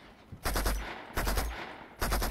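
Gunfire in the video game Uncharted 2: Among Thieves comes in three short, loud automatic bursts separated by brief pauses, with no talk over them.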